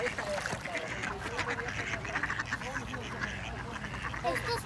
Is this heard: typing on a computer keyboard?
no